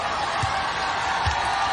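A basketball arena crowd at a Maryland versus Indiana Big Ten game roars as a steady, dense wash of noise, with faint low thumps underneath.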